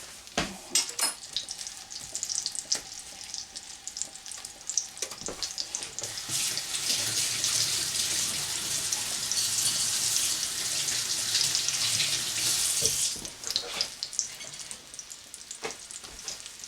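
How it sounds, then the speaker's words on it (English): Tap water runs steadily into a pan while preparing penne alla vodka with tomato, a continuous rushing hiss building for several seconds close by, with faint kitchen clatter before and after. "So to this we're going to add a little water."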